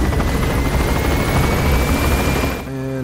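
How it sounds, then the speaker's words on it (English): Loud, steady rotor thumping from an enemy helicopter in the video game Metal Gear Solid V: The Phantom Pain fills the scene, cutting off abruptly near the end into a low electronic hum. "That is not our helicopter"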